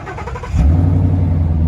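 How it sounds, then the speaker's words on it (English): A 2016 Ford Mustang GT engine starts by remote start after a short crank and settles into a deep, loud, steady rumble close by. "you can, of course, remote start it, which we're gonna do real quick"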